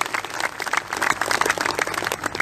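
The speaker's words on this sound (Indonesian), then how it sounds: "Tepuk tangan untuk beliau." An audience applauding a guest at an NU gathering in Karawang, a brisk burst of many hands clapping close and lively for a couple of seconds.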